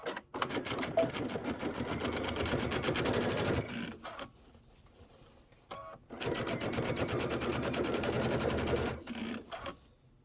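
A sewing machine stitches the right side onto a Kimberbell Sweet Land of Liberty pillow, running in two steady rapid bursts of even mechanical clatter separated by a short pause, fairly quiet and alone.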